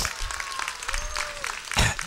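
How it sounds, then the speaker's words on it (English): Audience applause at the 1995 National Speakers Association Convention in Philadelphia, a dense burst of clapping from a large crowd that carries steadily, with a faint tonal whistle and a brief louder knock near the end. "Give it a round of applause there."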